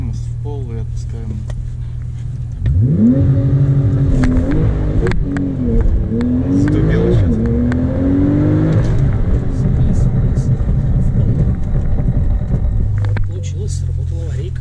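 Porsche 911 Turbo S doing a launch control start in sport mode, the engine revving hard then surging through rising gear sweeps as the car accelerates, loud and close inside the cabin, with someone talking over it.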